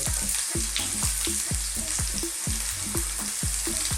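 Curry leaves and ginger strips fry in a pan with garlic ginger paste for minced beef and potato curry, giving a dense, loud, steady sizzle punctuated by regular scraping stirs.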